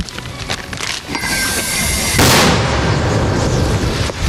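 A heavy, booming blast from a mortar being fired, loud and close, followed by a lingering rumble and noisy outdoor wash.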